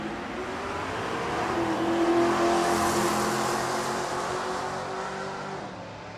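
Drag race cars, a Nova among them, roar down the strip at a race-week event, a broad engine rumble swelling to a peak midway and then easing off, loud and continuous with no talking.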